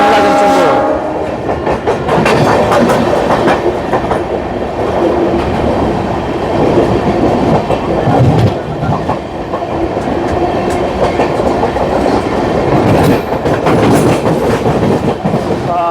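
Odisha Sampark Kranti express running at speed, loud and close with a continuous rumble, rattling carriages and rhythmic clickety-clack of wheels over rail joints, a brief horn-like tone near the start.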